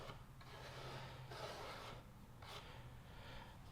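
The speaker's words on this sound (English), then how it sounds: "Now we're going to sand to it," Steady rasping abrasion as the cut edge of a 2024 Harley-Davidson Street Glide fairing is hand-sanded, continuous scraping strokes close up with faint swells in intensity.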